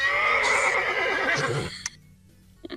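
A horse's whinny, played as the clue in a sound guessing game, rings out loud and close for nearly two seconds, followed by quiet and a couple of brief clicks.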